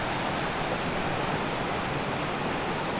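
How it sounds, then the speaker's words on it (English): Creek water rushing over small rapids on an Ozark spring creek, a steady, dense broadband wash that is close and continuous with no pauses and no voices. "We're at the little rapids part in the creek."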